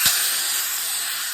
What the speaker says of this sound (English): I'm just gonna shove it in the hose. She's gonna blow all my air out pretty fast.